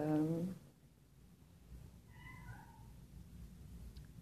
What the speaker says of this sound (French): Oui, Neige, mon chat, un de mes chats